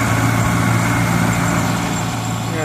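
An International W6 tractor engine runs steadily at a threshing bee, a loud low idling rumble with a constant drone, close by, and a voice faintly under it.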